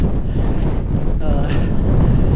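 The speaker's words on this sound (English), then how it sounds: "It's so windy and there's so much rain" Heavy wind buffets the microphone in a constant roaring rumble, with a wet, rushing texture of rain, outdoors in Norway, and no clear speech.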